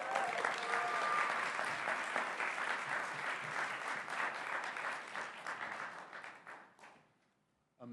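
Applause from an audience at an awards event, a full round of clapping that holds steady and then thins out and fades near the end.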